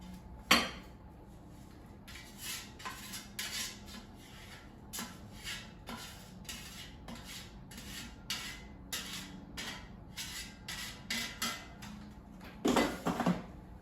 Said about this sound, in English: So let's take them out of the air fryer.